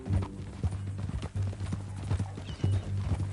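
A horse clip-clops with steady, close hoofbeats in a regular rhythm, fairly loud, with no voices over it.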